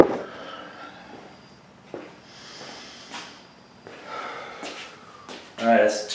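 Deep breaths taken between sets of high-rep bench presses, heavy inhales and exhales spaced a second or so apart, close to the microphone, with a louder huff near the end.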